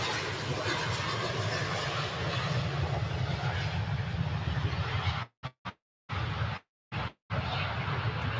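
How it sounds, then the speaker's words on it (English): A Jet2 airliner takes off at Manchester Airport, its engines giving a loud, sustained broadband roar with low rumble that holds steady before dropping out in several abrupt gaps. "Just trying to keep an eye on the Jet 2 plane that's due to go as well."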